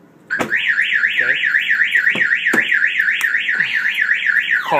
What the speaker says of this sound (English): If anybody opens the doors, it will fire off the alarm and it will prevent the car from starting.